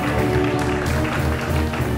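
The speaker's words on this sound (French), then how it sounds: "mais applaudissez pour sa beauté" A group claps steadily at an outdoor village gathering, a dense continuous patter with voices and murmuring mixed underneath.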